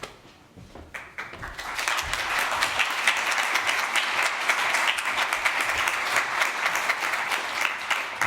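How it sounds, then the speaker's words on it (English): Audience applause at a launch event for a social economy transition pathway, starting with a few scattered claps then swelling into loud, sustained clapping from a large crowd that continues to the end. "I think these applause are for you, because it was great"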